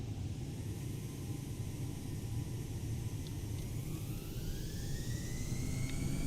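A Frontier Airlines jet takes off in Microsoft Flight Simulator, a steady rumbling engine roar with a rising whine building in pitch over several seconds, with no voices.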